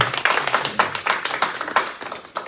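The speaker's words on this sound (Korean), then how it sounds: "바로 2023년 의료대마 운동본부 총회를 박수로 다 같이 시작을 해보겠습니다." A small meeting crowd claps to open the 2023 annual general assembly of a medical cannabis advocacy group, individual hand claps clearly separated in a quick uneven rhythm, fairly close.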